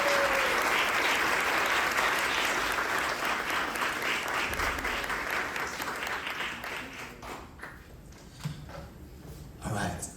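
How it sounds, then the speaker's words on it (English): An audience applauding three panel speakers at the COM-EX 2024 event, a broad wash of clapping that starts loud and gradually fades over ten seconds, with a few scattered claps and room noise at the close. "Please give a big round of applause for our three speakers"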